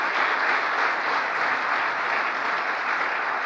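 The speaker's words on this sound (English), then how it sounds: "That's an applause line." Dense, steady applause from a large audience at a presidential event marking the first anniversary of the Inflation Reduction Act, a continuous wash of clapping that holds at an even level with no voices breaking through.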